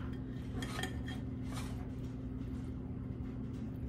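A knife and fork clink and scrape against a foil-covered pan while oven-roasted beef is cut up, a few short metallic taps over a low steady hum.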